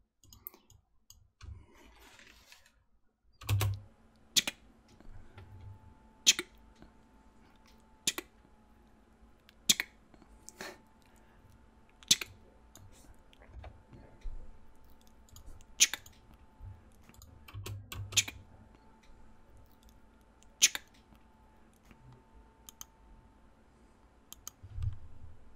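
Calculator buttons pressed one at a time for sound effects, sharp isolated clicks spaced a second or two apart over quiet background hum.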